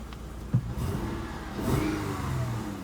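A car engine that is running rough revs up twice in short bursts over a low idle rumble, moderately loud and close, with no talking.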